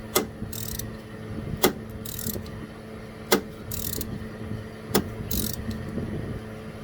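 A ratchet tightens the alternator bolts on a 2006 Saturn Vue 3.5L: four sharp, close clicks at a steady rhythm, each stroke followed by a brief, buzzy ratcheting whir, with no talking.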